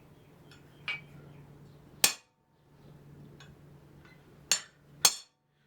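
A hammer striking a chisel to cut lines into a hot iron bar while forging medieval andirons: four or five crisp, ringing metallic blows spaced irregularly over a low hum, close up with no speech.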